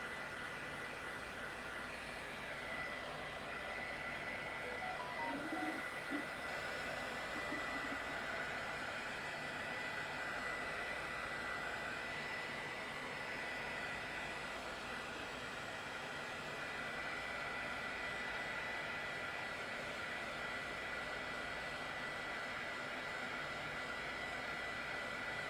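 A hair dryer runs steadily to dry the bottom of a painted textured bird sculpture, a continuous close whooshing roar that holds an even level throughout.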